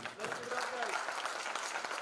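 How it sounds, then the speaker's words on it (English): Applause at a walking tree festival talk, a brief, fairly quiet patter of clapping from an audience with a voice speaking over it. "Huge round of applause, yes."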